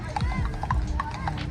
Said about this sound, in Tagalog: Parang may mga parada ng kabayo rito eh.